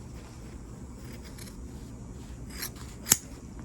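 Scissors snip through a fabric sleeve, trimming it to length: a couple of soft cuts followed by one sharp, close snip near the end, over quiet room noise.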